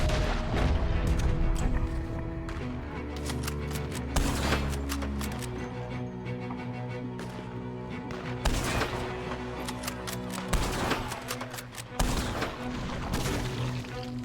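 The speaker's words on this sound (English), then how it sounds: "Where's the guy shooting from?" A sustained firefight in the video game Red Dead Redemption 2: repeated sharp gunshots and booming reports crack out irregularly over a rumbling low backdrop, some shots close and loud, others more distant.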